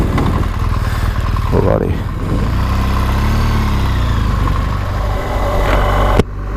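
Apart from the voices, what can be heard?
2017 BMW R1200GS motorcycle engine starting and idling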